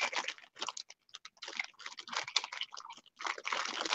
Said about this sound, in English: I'm just trying to cut out shapes of foam for my big stamp.